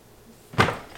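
A heavy drawer packed with makeup slides shut and lands with a single soft, dull thump after a brief quiet moment, close by and alone.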